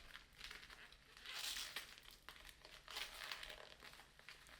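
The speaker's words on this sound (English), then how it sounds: "some layers of bubble wrap taped. The scissors make short work of that" Close-up crinkling and rustling as layers of taped bubble wrap are cut with scissors and pulled apart, in irregular bursts of crackle with louder swells around the middle and near the end, faint and without talk.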